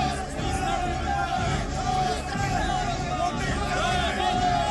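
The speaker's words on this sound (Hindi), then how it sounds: "कुछ खालिस्तानी समर्थक सिखों के साथ पाकिस्तानियों की चंद लोगों की भीड़ ने हंगामा करना शुरू कर दिया" Crowd commotion at a protest outside the Indian High Commission in London, a dense babble of shouting voices heard from a moderate distance, continuous and fairly faint, with talk layered over it.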